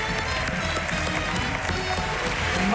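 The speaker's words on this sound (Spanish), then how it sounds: "Fuerte aplauso, Manu" Studio audience applause for a joke teller at a televised joke-telling competition, a dense, steady wash of clapping filling the whole stretch with faint voices mixed in.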